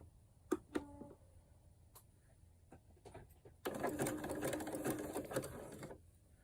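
A domestic sewing machine stitches elastic onto high-waist knickers: a few isolated clicks and short bursts at first, then a sustained, fast mechanical whirring run of stitching near the end, with no talk.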